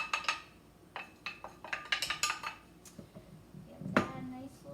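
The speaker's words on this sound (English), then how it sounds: "Give that a nice little stir." Wooden spoon stirring buttermilk pancake batter in a bowl, giving close clinks and scrapes in irregular bursts, with a brighter knock near the end.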